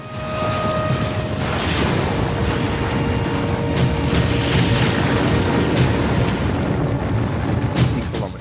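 Artillery shelling and explosions during Russian attacks on Ukrainian cities, a dense continuous roar of booms and blasts with sharp impacts scattered throughout, loud and unbroken with no voices.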